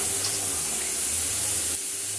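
A steady loud hiss of steam rushes out as a pressure cooker is opened, broad and continuous for about two seconds before easing slightly at the end.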